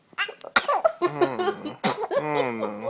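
A three-month-old baby lets out a couple of quick sneezes and breathy coughing sounds close by, mixed with an adult's exclamations.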